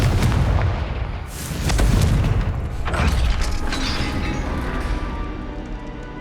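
A Confringo fire-blast spell from Hogwarts Legacy lands as heavy, loud booming blasts with mechanical rumble. The blasts continue in waves over several seconds in an enclosed chamber.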